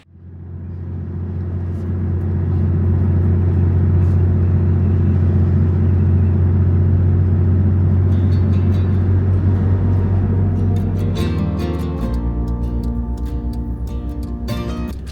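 Toyota Land Cruiser rolling through Norwegian winter, a steady loud engine drone and road rumble filling the cabin, the tone shifting slightly near the end with light clicks and rattles over the hum.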